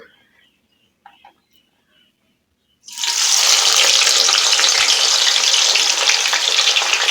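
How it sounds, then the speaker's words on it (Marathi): Chopped onions go into hot oil in a pan for veg biryani, a few quiet clinks and then a sudden loud burst of sizzling that settles into a steady, close frying hiss. "इथे आता कांदा तळून घ्यायचा आहे"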